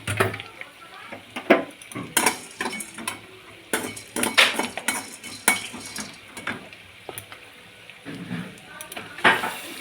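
Meat goes into a pot for biryani amid a busy clatter of a spoon scraping and knocking against metal, irregular sharp clinks over a low, soft sizzle.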